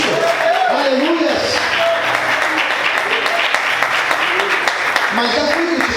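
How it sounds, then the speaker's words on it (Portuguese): Church congregation applauding during a sermon, a steady dense wash of many hands clapping throughout, with voices calling out over it. "Pode aplaudir Jesus por isso."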